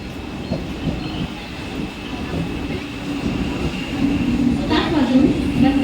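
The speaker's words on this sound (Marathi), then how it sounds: "कल्याण जाने वाली धीमी लोकल थोड़े ही समय में प्लेटफॉर्म क्रमांक 1 पर आ रही है" A Mumbai suburban local train rumbles and clatters nearby as it arrives at a platform, growing louder as it approaches, with a brief metallic squeal of wheels near the end.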